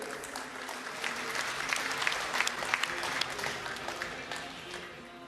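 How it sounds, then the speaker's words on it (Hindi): Applause from an audience, dense and steady for several seconds before tapering off slightly, heard at moderate loudness from a distance. "खुशी दिखाने के लिए हम ताली बजाते हैं।"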